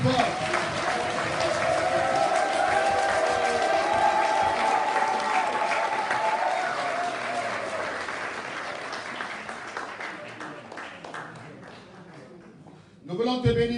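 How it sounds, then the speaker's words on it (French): A church congregation applauding and cheering for Jesus Christ, sustained loud crowd clapping and shouting that slowly fades, with a voice rising over it near the end. "Est-ce qu'on peut acclamer Jésus-Christ de Nazareth plus fort?"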